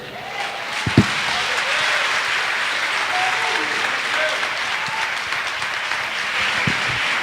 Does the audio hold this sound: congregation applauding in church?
yes